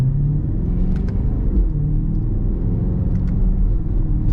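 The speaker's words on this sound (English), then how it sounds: "Let's go ahead and throttle it just a little bit." A 2025 BMW X6 M60i with its V8 engine pulling under light throttle, a deep steady rumble heard from inside the cabin, loud and continuous with no talk.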